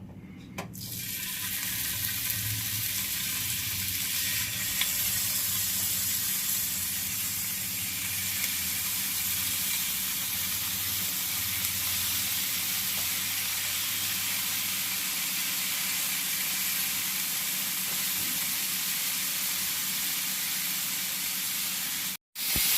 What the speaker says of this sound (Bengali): এবার প্যানটা আমার গরম হয়ে গেছে। এরপরে আমি এক একটা করে স্টিক ভেজে নেব।